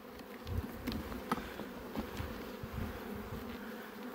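Honey bees swarming over an open hive during an autumn pine-honey harvest and colony inspection, a steady, moderately faint buzzing drone with small swells as individual bees pass near, no voices.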